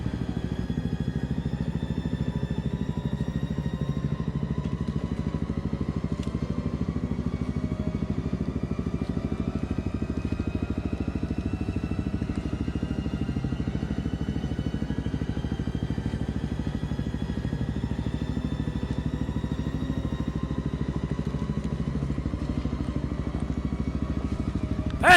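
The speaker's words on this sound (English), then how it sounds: "watching Guy struggle to get his KTM down this very steep part of the hill" A KTM dirt bike creeps down a very steep hill, its engine a steady low drone with faint clattering, held at a constant moderate level throughout.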